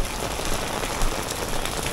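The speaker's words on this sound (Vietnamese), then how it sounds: "mưa rất là lớn cả nhà, mưa rất lớn luôn nha quý vị" Heavy rain pours steadily over Nha Trang, a dense, even hiss of drops hitting surfaces with no pauses, close and fairly loud throughout.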